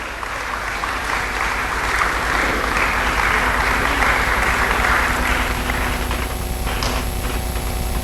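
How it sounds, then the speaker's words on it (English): Sustained applause from an audience at an annual research meeting as a judge is introduced, steady dense clapping lasting several seconds without speech. "Let us meet our judge with a round of applause."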